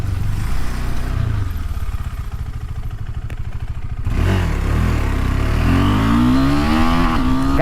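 KTM 390 Adventure single-cylinder motorcycle accelerating on the road, a loud close engine drone that drops briefly as it shifts, then climbs steadily in pitch with rushing wind noise.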